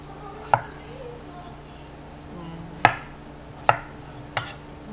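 A knife chops vegetables into half-inch pieces for Japanese curry, four sharp distinct thuds on a board spaced irregularly across a quiet kitchen background, close and clear.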